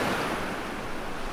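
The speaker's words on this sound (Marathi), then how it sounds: "आणि मोठमोठ्या लाटा ह्या अडकलेल्या जहाजावर धडकत होत्या" Big waves from a rough sea crash against a ship stranded at Mirya beach, giving a brief burst of steady, loud, broad surf roar.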